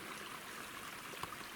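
Creek running down a forested draw near Huff Lake, a soft, steady wash of flowing water with faint trickling, heard alone and at a low level for a moment.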